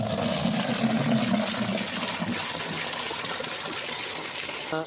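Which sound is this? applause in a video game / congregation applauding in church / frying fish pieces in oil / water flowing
water flowing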